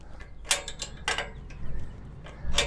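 A wrench loosens bolts on the side brackets of a Ryobi ZT480ex battery-powered zero-turn mower, giving short metallic clicks and ratcheting scrapes in uneven bursts up close, with a low background rumble and no talking.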